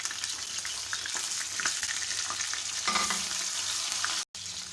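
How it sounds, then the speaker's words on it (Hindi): Onions fry in hot oil with cumin and fenugreek seeds, making a steady, fairly soft sizzle with occasional stirring scrapes and crackles, cut off briefly near the end. "प्याज का अच्छा सा गोल्डन कलर आने तक हम इसको फ्राई कर लेंगे"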